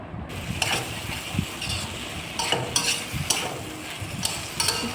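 Potato and pointed gourd pieces are stirred in a pan, a spatula scraping and clattering in irregular bursts over a low, steady sizzle, close and moderately loud; no talking.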